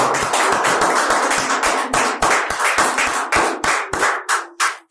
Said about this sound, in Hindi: स्वागत में जोरदार ताली बजाएं आप।